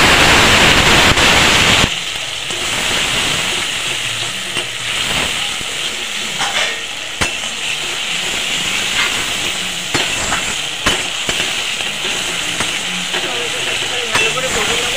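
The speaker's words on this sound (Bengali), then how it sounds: "ভালো করে ভেজে নেবো যাতে টমেটোর ভাজা গন্ধটা চলে যায়।" Grated tomato, added generously to hot spiced oil in a pan, sizzles and hisses steadily, loudest at first, then settling into a continuous fry with occasional crackles and stirring clicks.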